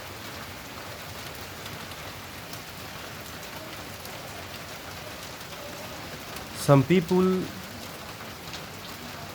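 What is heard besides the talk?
heavy rain falling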